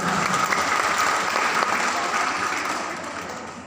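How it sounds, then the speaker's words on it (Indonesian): An audience at a school event claps steadily for a child, a dense, continuous applause that holds loud and then starts to fade toward the end. "Tepuk tangan untuk As-Sofa."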